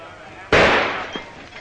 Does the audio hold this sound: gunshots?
yes